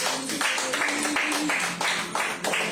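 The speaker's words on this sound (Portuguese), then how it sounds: "Um aplauso ao Senhor" A congregation at an evangelical worship service claps for the Lord in a brief, steady burst of many hands, moderately loud with some sustained tone and faint voices underneath.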